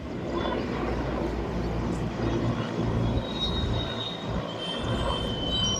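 Helicopter engine drone over a flooded area during a monsoon rescue as supplies are flown in: a steady, fairly distant roar that holds evenly throughout with no talk.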